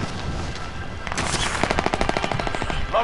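Rapid automatic gunfire in Call of Duty Warzone, a loud burst of dense shots building after a second and rattling steadily to the end, close and alone with no voices.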